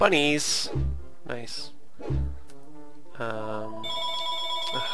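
A telephone rings in short electronic tones, set against the chirpy music and sound effects of a video game while someone speaks over the start.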